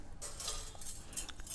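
A metal rack clinks and rattles into an Instant Pot in a few light, quiet metallic knocks and scrapes over faint background hiss.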